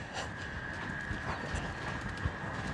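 A horse's hooves thud softly on the ground as it is lunged in a circle, a faint irregular clip-clop under a steady background hum, with no talking.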